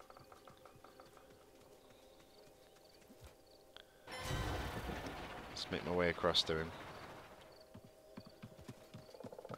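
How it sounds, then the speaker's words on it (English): Footsteps from an enemy player in the video game Realm Royale come as soft, rapid clip-clopping, joined midway by a louder, busier burst of trotting and movement while a player talks over it. "I can hear him, I can hear his footsteps."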